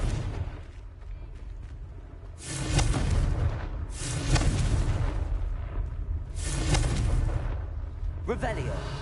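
Blasts from a fire curse spell in a video game, several loud bursting booms separated by quieter stretches, with a voice speaking between them.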